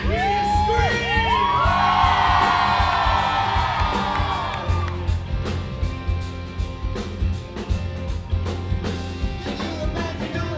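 Concert crowd at the Bataclan in Paris screaming, whooping and cheering during a show, a dense sustained roar with high shouts that tapers into scattered cheers and claps over music.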